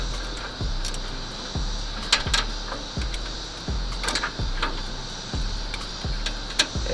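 Repeated ratcheting clicks from tightening a radiator hose clamp on a Chevy truck, coming in short regular bursts with a low thump at each stroke, close and moderately quiet against steady background hiss.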